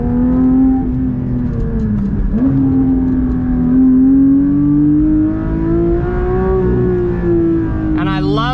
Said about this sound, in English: with that FI exhaust, it absolutely screams